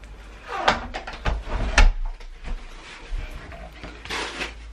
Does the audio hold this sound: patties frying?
no